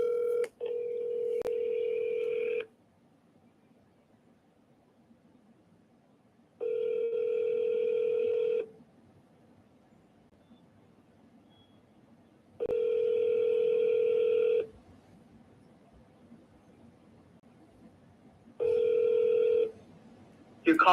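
Telephone ringback tone from an outgoing call, repeating in clear two-second pulses separated by silent gaps, with a few dialing blips at the start.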